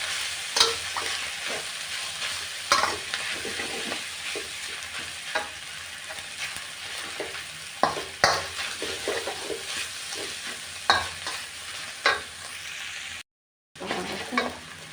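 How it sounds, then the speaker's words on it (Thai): Fermented pork sausage (nham) fried rice with egg is stir-fried in a pan, a close, steady sizzle broken by frequent scraping and clattering stirs, with a brief gap of silence near the end. "จะผัดให้เครื่องเข้ากันนะคะ"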